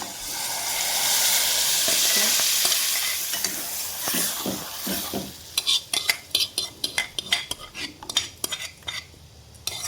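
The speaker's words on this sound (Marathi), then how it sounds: "ग्रेव्ही परतून घेऊया त्याच्यात." Mushroom masala gravy with butter sautéing in a pan: a broad frying hiss for the first few seconds, then a fast run of loud scraping clacks from a spoon stirring against the pan over a softer sizzle.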